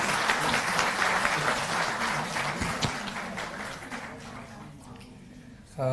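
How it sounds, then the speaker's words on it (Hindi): An audience at a handicraft artisans' award ceremony applauds the Chief Minister, a steady round of many hands clapping that gradually thins and fades out near the end, followed by a brief sharp sound. "बहुत जोरदार तालियां।"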